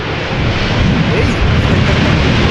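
Airliner thrust reversers on landing at Amsterdam Schiphol in gusty crosswind, a loud roaring rush of engine noise that builds quickly and holds, dense and rumbling.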